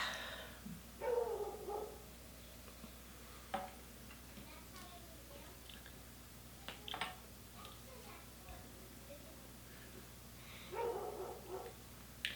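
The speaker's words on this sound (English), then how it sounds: "That's a loud dog." A dog barks a few times in the distance, short bursts separated by long gaps, with faint ticking and quiet talk in the room.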